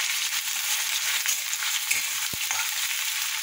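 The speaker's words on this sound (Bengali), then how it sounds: "রসুন পেঁয়াজ একটু ভাজা হবে, তারপর ছাড় দেবো।" Garlic and onion frying in a pan, a dense, even sizzle running steadily throughout with one sharp tap partway through.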